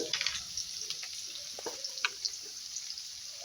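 Crushed garlic dropped into hot oil for a Bengali boal fish curry gives a quiet, sparse sizzle, with scattered small pops and crackles over a soft hiss.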